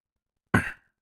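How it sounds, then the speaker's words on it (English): A single short, sharp cough bursts out close to the microphone from someone playing Assassin's Creed 2. It lasts under half a second, with silence before and after. "cough right in everybody's ear"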